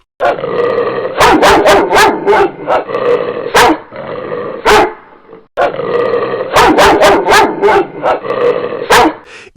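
A thirsty dog barking close and loud in rapid bursts of sharp barks and yips, two clusters separated by a short pause.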